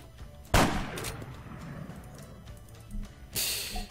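Lynx sniper rifle in the video game Arma III fires a loud, close, single sharp crack that rings out, followed by quieter game ambience and a second burst of noise near the end.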